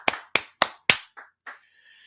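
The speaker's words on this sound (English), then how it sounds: "clap it up, clap it up, clap it up" Hands clap at a religious brotherhood class in San Antonio: four sharp, loud, evenly spaced claps, then two softer, duller ones before the sound fades into a faint ringing tail.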